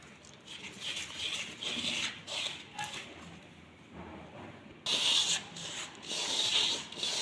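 Chickpea flour dough being mixed with oil by hand for spicy sev, a steady close rubbing and scraping with rhythmic pulses that grows louder and brighter in the second half.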